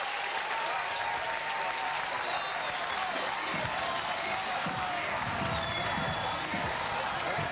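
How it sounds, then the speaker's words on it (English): A college baseball crowd at Texas Tech, hosting Texas, cheers and applauds in a loud, sustained roar, with a commentator's voice talking over the noise. "This place was getting loud."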